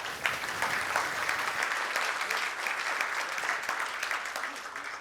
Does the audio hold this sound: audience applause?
yes